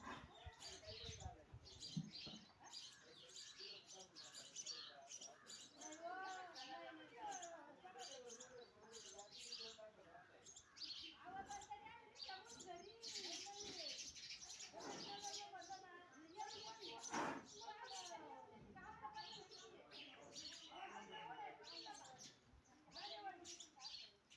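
House sparrows chirp busily at a clay nest box holding chicks, with dense, overlapping tweets and squawks continuing throughout at a faint, steady level.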